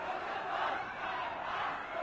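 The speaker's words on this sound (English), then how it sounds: "with the crowd hurling abuse and curses at them" A street crowd shouting abuse and curses at masked police, a continuous roaring mass of angry voices heard from a distance, steady and moderately loud throughout.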